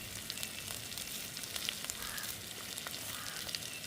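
Fennel seeds sauté in hot oil for a Jaffna-style chicken devil, a soft, steady sizzle with faint crackles, close but quiet and without talking.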